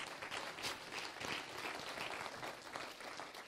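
Congregation applauding at a church service, a steady dense wash of many hands clapping that holds at a fairly even, moderate level throughout with no talk.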